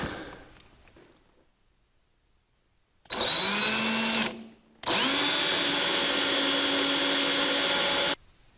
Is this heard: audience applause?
no